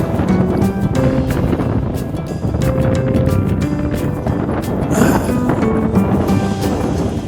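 Strong outdoor wind buffeting the microphone in a rough, continuous roar with gusts, loud and close, no clear talk over it.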